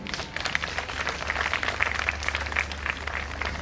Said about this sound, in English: Now firstly, please applaud for yourselves.